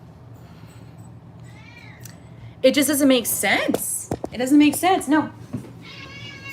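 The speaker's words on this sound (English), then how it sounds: "That was a cat." A cat meows several times in a row, loud and close, with wavering rising-and-falling cries while a person talks nearby.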